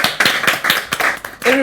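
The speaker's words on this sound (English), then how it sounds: "Everybody has been forced to clap." Studio audience clapping on a Kenyan talk show, a brief burst of claps and cheering close up, with voices mixed in over the top.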